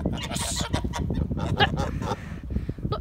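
Several geese call out in quick honking bursts at close range, loud and overlapping across the whole stretch, with no talking.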